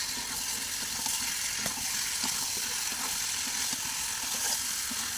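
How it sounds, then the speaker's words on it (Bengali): Soft continuous sizzling from a pan of cooking potatoes as fried boiled eggs are added and stirred in, with faint scraping and bubbling, moderately quiet and close. "এই পর্যায়ে দিয়ে দেবো সিদ্ধ করে ভেজে রাখা ডিমগুলো, দিয়ে আবারও একটু নাড়িয়ে চাড়িয়ে দেবো।"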